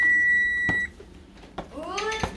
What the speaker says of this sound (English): All right, there goes the timer.